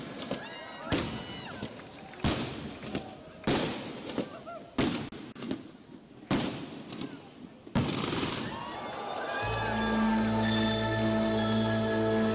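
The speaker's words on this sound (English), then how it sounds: "with this cannon sound launching the commencement of the show" Six booming cannon shots open a show at regular intervals with echoing tails, followed by a sustained drone of pipes and drums starting to play.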